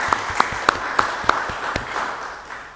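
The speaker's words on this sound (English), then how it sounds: "a round of applause is in hand," A council meeting gives a round of applause: about six sharp, distinct claps ring out close by at a steady pace, then thin out into a softer patter that fades away.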